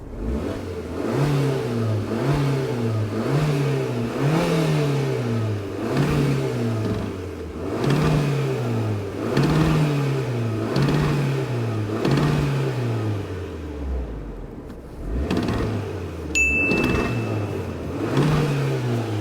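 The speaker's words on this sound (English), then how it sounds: "I'm gonna rev it a bit" An Abarth 595's small turbocharged engine revs repeatedly, about eight rhythmic rises and falls, loud and close, settling briefly before one last rev.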